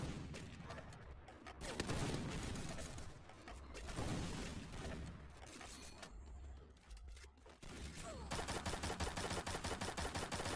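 Gunfire in PUBG, including AWM sniper rifle shots, in a dense, loud burst of repeated shots and battle noise throughout, with no clear pauses.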